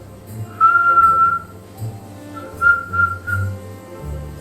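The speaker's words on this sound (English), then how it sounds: "I can only whistle one note." Someone whistles a single steady note in short repeated bursts, close and clear, with a low background hum.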